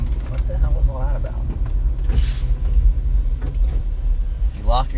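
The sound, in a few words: car power windows moving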